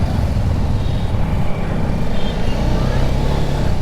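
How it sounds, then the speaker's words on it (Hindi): Busy market street traffic with e-rickshaws and motorbikes, a loud, steady wash of engine hum and road noise close by, without pause, heard from a rider moving along the road. "यहाँ पर सारे ई रिक्शा चल रहे हैं, बाइकें सब चल रही हैं"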